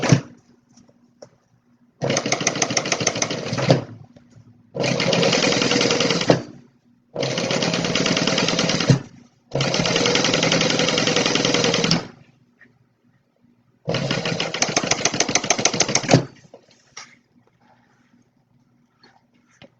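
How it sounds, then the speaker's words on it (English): A sewing machine top stitches through a seam on a tote bag in five bursts of fast, buzzing whir of about two seconds each, separated by short quiet pauses. "we're going to top stitch right through that seam that we just made"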